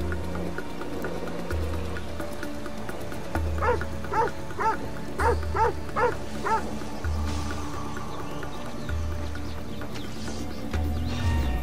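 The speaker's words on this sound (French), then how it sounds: "C'est le chien." A dog in Assassin's Creed Odyssey gives a run of about seven rhythmic barks, fairly close, over looping low game music and ambience.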